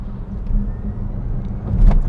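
BMW i3S electric car with a 22 kWh battery pulling away under acceleration, a low steady rumble of road and motor noise that swells slightly toward the end, with no talking.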